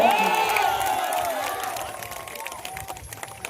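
Stage show audience in Maulanapur, Jaunpur cheering and shouting, loud at first and then thinning to scattered claps and calls, with whistling or whooping voices above the crowd noise.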